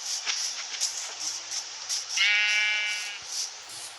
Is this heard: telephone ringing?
no